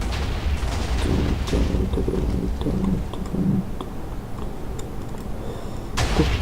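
A deep, rumbling game explosion booms and rolls on for several seconds, with a sharp crack near the end.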